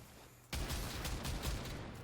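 Rapid burst of Kuva Brakk shotgun blasts in Warframe, starting abruptly after a brief quiet moment, then several loud, closely spaced booming shots in quick succession.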